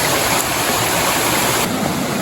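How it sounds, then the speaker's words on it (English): Little creek on a hiking trail near Coldwater Lake at Mt St Helens, rushing water close and loud in a constant broadband roar, with no voices. "Got another little creek crossing here."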